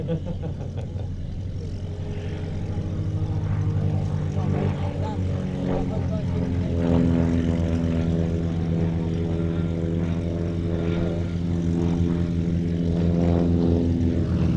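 An SF260 light aircraft with a 260-horsepower Lycoming O-540 piston engine flies at an airshow, its steady propeller drone droning throughout with a slight swell in loudness, while a commentator talks over it.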